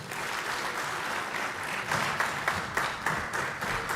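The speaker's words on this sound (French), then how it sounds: "Applaudissons beaucoup plus fort Son Excellence pour ces belles paroles qu'on vient d'entendre." Members of the Rwandan Parliament applaud after a speech by the President of the Republic of Congo. Sustained crowd clapping is heard, growing slightly stronger partway through, with sharp rhythmic claps standing out near the end.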